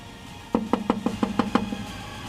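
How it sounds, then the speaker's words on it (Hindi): Someone raps repeatedly on a house door, about eight firm knocks in a quick, fairly even run, close and distinct, then stops. "तो हम बार बार लगातार खटखटा रहे हैं"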